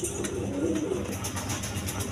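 Rajgolla pigeons coo in a low, repeated rolling murmur against a steady background hum, with faint clicks and shuffling in the loft.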